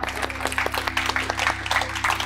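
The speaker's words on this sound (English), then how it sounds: "Give yourself applause." An audience at a talk on health and ageing claps for itself, a brief burst of scattered applause with a steady low hum underneath and no talking.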